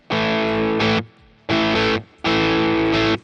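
Three loud, thick distorted chords from a Fender Classic Vibe Stratocaster through a Boss Katana amp, each held for about half a second to a second with brief pauses between.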